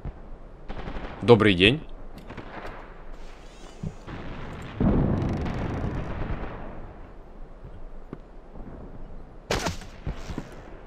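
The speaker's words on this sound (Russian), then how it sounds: "Где-то вон оттуда стреляют." Gunfire in the PC shooter Iron Storm: scattered shots and bursts, one sharp loud burst near the start and another near the end, under a voice talking and game ambience.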